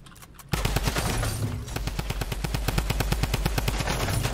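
Automatic gunfire in Fortnite rattles off in a fast, even burst of loud, sharp shots, starting abruptly after a brief quieter moment and continuing without pause.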